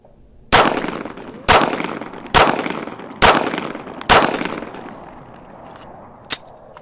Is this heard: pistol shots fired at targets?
yes